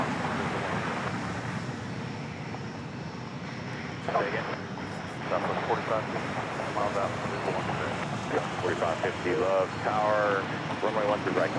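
A passenger airplane coming in to touch down on runway 13 Right at Dallas Love Field in Texas, a steady broadband roar under outdoor wind, with a person talking over it throughout.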